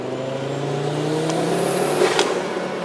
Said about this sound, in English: So let me show you what it's like to drive this car. I'm in second gear